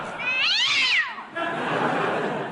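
A cat yowls loudly after being struck by a cricket ball, giving a long rising and falling wail followed by a rougher, noisier cry close by.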